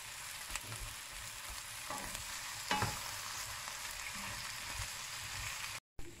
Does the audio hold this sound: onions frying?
yes